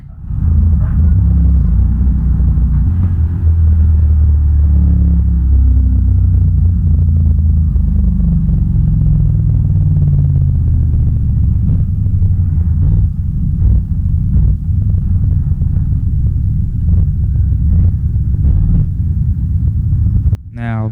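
A car engine in the BeamNG racing game rumbles loudly and steadily at low pitch, its tone sagging and wavering as it idles, with a few sharp clicks near the end.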